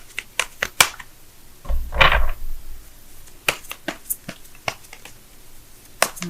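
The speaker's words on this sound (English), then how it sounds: "so let me go ahead and shuffle right fast" Tarot cards shuffled quickly by hand, giving sharp irregular snaps and flicks with a short riffling burst in the middle, close and clear with no talking.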